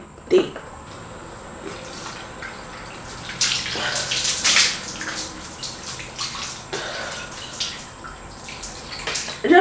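Shower water runs during a bath, a steady hiss of spray with louder splashing surges as the body moves under it, heard close with no speech.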